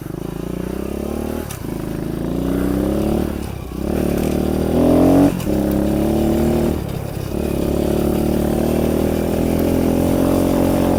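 A small Kawasaki KLX 110 dirt bike engine revs up and down repeatedly on a muddy trail, the pitch rising and dropping as it labors along, close and continuous.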